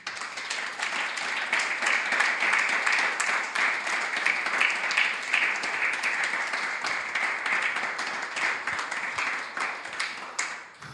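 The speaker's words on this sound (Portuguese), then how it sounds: "Vamos dar uma palmas para Jesus?" A church workshop audience claps for Jesus, producing steady, dense applause that holds at an even loudness for the full length without pause.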